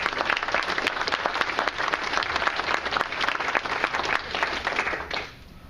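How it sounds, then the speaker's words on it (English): Dense applause from an audience at a union gathering honouring the Guild after a collective bargaining agreement, steady and full for about five seconds before cutting off sharply into near quiet. "we should also applaud the Guild for all of that"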